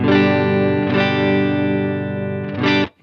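A sustained electric guitar chord rings out loud and steady, re-struck twice, then cut off abruptly; no voices.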